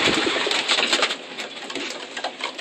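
Kirk pigeons, young birds in a loft, coo and call in a dense, continuous flock chorus that stays close and fairly loud throughout.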